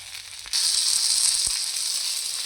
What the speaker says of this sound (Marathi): असे 5 मिनिटं बारीक गॅसवर व्यवस्थित तळून झालेली आहे.